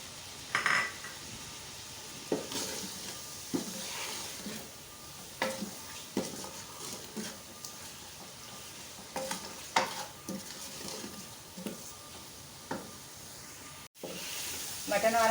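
Boneless mutton with spices frying in a pot for sabut masoor dal gosht, stirred in a steady series of scrapes and clinks over a soft continuous sizzle, with faint talk in the background.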